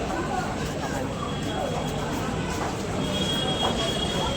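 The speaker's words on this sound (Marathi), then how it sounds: "ट्रेन आली आहे" A train pulls into a Mumbai station with a continuous rumbling roar of rail cars and some squealing wheel tones, loud and close, while people talk over it.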